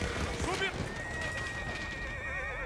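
A horse whinnies in the video game Battlefield 1, a clear rising neigh with hoof clip-clop amid steady battle ambience, with someone talking over it.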